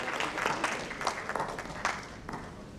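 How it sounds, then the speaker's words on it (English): An audience applauds to welcome an investment consultant joining a treasury panel discussion. The clapping is steady and fairly quiet, with a few sharper claps standing out, and no voices. "A big round of applause to Parulji."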